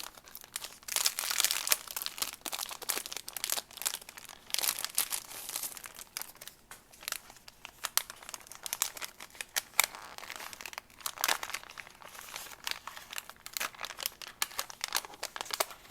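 Sheets of craft paper being handled and crinkled close up, a steady run of crisp rustling, crackling bursts at uneven intervals, fairly quiet with no voices.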